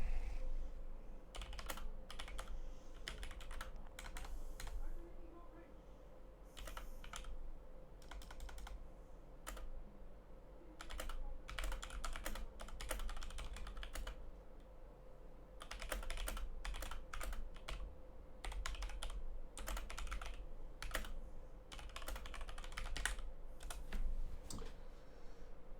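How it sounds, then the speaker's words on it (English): Rapid clicking of computer keyboards being typed on by several gamers during an Xbox tournament qualifier, steady clatter throughout with a constant low hum underneath and no speech. "Listen, stop typing. Stop typing, managers."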